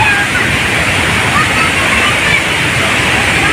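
A swollen river pours over a waterfall in flood, a loud, dense, unbroken roar of rushing water heard close up, with no pause or change in intensity.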